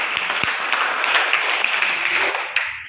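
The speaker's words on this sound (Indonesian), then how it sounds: "Tepuk tangan buat kalian." Students in a classroom break into applause, a dense, even patter of many hands clapping at close range for about three seconds, with no one speaking over it.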